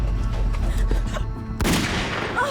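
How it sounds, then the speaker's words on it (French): Gunfire: a few sharp bangs over a low rumble, then a louder blast around the middle with a lingering noisy tail and faint high squeals, no talk. "lui tire une balle dans la hanche"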